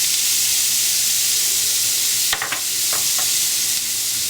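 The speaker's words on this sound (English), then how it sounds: "throw our onions in here" Onions frying in a pan with pork, a dense constant sizzle and hiss up close, broken briefly by a couple of scraping stirs.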